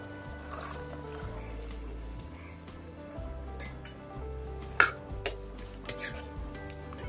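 Chickpeas sizzle in oily masala in a pan while being stirred, a soft steady frying hiss broken by a few clinks and scrapes of the spoon against the pot.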